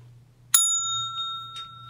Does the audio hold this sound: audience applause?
no